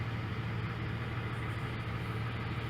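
A Jeep engine, warmed up to temperature with its check engine light on, idles in a faint, steady low hum that holds even throughout.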